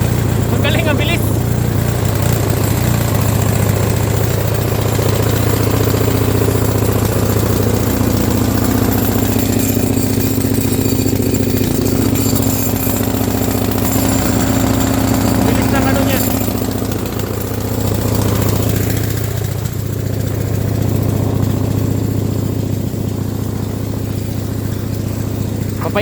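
A vehicle engine idles to warm up before snow clearing in a cold Canadian winter, holding a loud, steady low rumble throughout while people talk over it.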